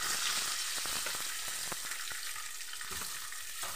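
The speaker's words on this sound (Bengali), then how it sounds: "ডিমগুলোকে একটু লাল করে ভেজে নেব" Duck eggs fry in oil in a pan for a Bengali egg curry, a constant bubbling hiss scattered with quick crackles and pops, close but fairly quiet, with no talking.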